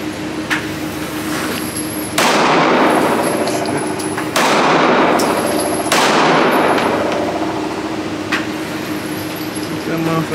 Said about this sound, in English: Go ahead and shoot that motherfucker